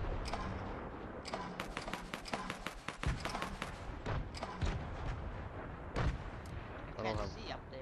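Gunfire in a video game firefight, with rapid bursts and scattered sharp shots cracking back and forth at close and middle distance, heard over a steady noisy background.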